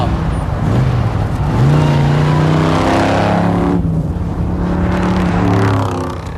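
An old Chevy hot rod revs loudly through its exhaust pipes, the engine's deep burbling note climbing and falling in repeated surges, close and powerful with no voices over it.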